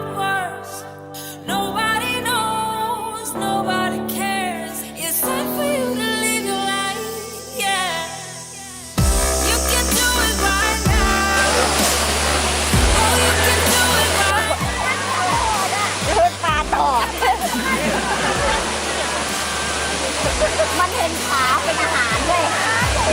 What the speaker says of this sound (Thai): ตอนนี้นะคะ เราก็มาอยู่น้ำตกเอราวัณนี่